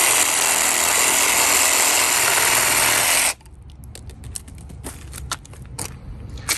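A cordless reciprocating saw buzzes loudly and steadily for about three seconds, then stops, followed by quieter scattered clicks and handling noises close by.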